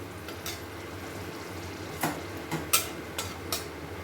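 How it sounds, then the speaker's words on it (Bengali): Potatoes and cauliflower fry in oil tempered with cumin seeds and dried chilli, giving a faint, steady sizzle broken by a few soft clicks from stirring. No one speaks. "দিয়ে তারপরে আমি আলু আর ফুলকপিটা এই তেলের মধ্যেই ভেজে নেব"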